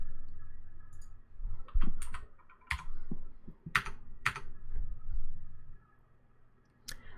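Typing on a computer keyboard, close and clear, with irregular bursts of key clicks and a few heavier keystrokes separated by short pauses, no voices.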